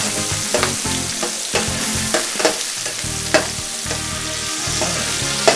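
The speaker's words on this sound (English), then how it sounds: "get a hold of our pan while we mix the onion and the garlic around" Onion and garlic sizzling loudly in oil in a paella pan, with repeated scraping strokes of a spoon as the mixture is stirred, close and continuous.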